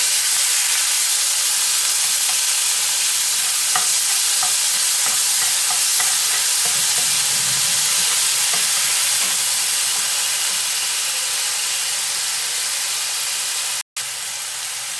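Onion, ginger and garlic paste sizzles loudly in a hot pan with tomato, a steady bright frying hiss with faint stirring scrapes and a brief cut near the end, no voices.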